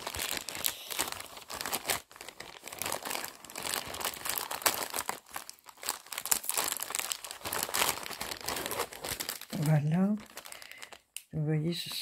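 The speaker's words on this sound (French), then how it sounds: "je vais vous en montrer un qui fera moins de bruit à déballer parce qu'il est en pochette zippée" A notebook is unwrapped from a zipped plastic pouch with continuous loud crinkling and rustling of plastic at close range, followed near the end by brief speech.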